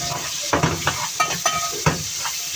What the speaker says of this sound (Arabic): انا قطعت البصلتين اهو، انزلي كده قلبيها كده تقليبتين حلوين